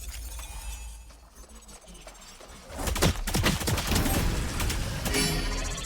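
Gunfire in the Valorant shooter breaks out midway after a quieter stretch, with a string of sharp, close shots in quick succession followed by continuing loud action.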